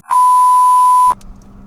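A single steady electronic beep about one second long, clean and loud, followed by quiet background hum, from a phone keypad as a number is dialed inside a 2016 Mitsubishi Mirage.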